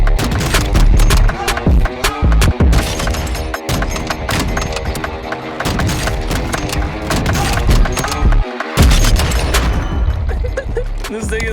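Signal 50 sniper rifle firing in Warzone 2, dense and loud with repeated sharp shots and booms over constant game music and effects.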